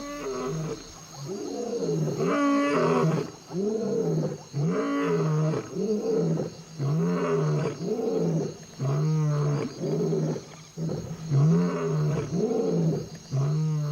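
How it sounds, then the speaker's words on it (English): Lions roar at dawn in the African wild, a series of deep, powerful calls repeated in a steady rhythm, close and loud, with no other voices. "Lions roar most at dusk and dawn because that's when sound carries best."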